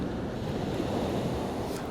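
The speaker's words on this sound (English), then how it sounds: "And because I've got the ocean behind me" Ocean waves on the shore mixed with gusting wind across the microphone, a continuous close, rushing surf wash with no talk over it.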